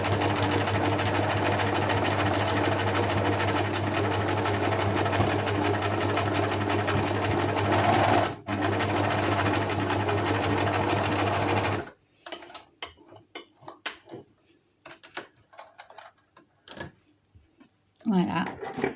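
A domestic sewing machine stitches fabric in a loud, steady whirring run of about twelve seconds, then stops, leaving only scattered handling clicks and taps.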